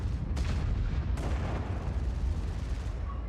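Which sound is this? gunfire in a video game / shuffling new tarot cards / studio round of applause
gunfire in a video game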